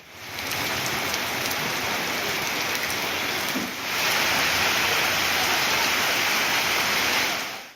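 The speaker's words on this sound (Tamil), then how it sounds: "திண்டுக்கல் மாவட்டம் பழனி மற்றும் சுற்றுப்பகுதி கிராமங்களில் இடியுடன் கூடிய கனமழை பெய்தது." Heavy rain with thunder over Palani and surrounding villages in Dindigul district, a dense, steady hiss of downpour filling the whole clip, close and loud, with a brief dip in intensity midway before surging back.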